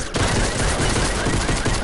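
Gunfire in Fortnite, a loud continuous burst of rapid shots that starts abruptly and runs dense and unbroken throughout, close up.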